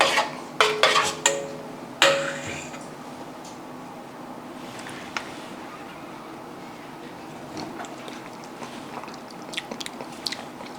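Someone bites into a grilled cheese sandwich with a few crisp crunches near the start, followed by quieter chewing that continues close and soft over a low background.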